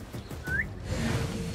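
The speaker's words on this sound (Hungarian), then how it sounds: "Megint a fütyülést nyomtam meg a szkennelés helyett." A character in Assassin's Creed Mirage gives one short, bright whistle that slides upward in pitch, heard alone over low game ambience.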